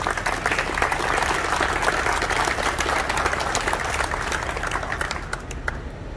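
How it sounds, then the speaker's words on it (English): At an outdoor 9/11 remembrance ceremony in Coral Gables, an audience applauds with dense, steady clapping that continues for several seconds and then gradually thins out. "a round of applause."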